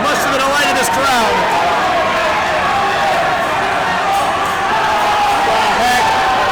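A live wrestling crowd cheers and roars continuously, loud and dense, with whoops rising through the din and an announcer talking over it.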